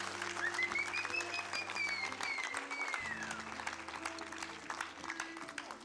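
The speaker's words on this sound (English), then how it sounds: "Can you applaud the Lord real quick?" Congregation applauding during a Thanksgiving church service, a dense steady wash of clapping throughout, with sustained organ or keyboard tones and a voice rising above it.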